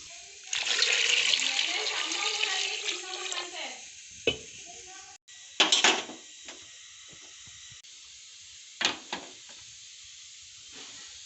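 Sweet potatoes being washed in water at home, with sloshing and rubbing for several seconds, then a few brief splashes and clunks, close by.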